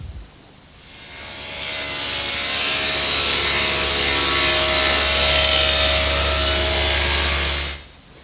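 A homemade panel cutter saws across a sheet for a dollhouse base in a workshop. The blade ramps up quickly and holds a loud, steady whining cut for about seven seconds, then stops abruptly.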